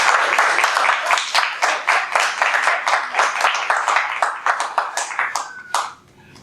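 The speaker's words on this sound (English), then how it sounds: "That could be an applause, actually." A small club meeting audience gives rhythmic, close applause, individual claps clearly audible in a steady beat for about six seconds before stopping.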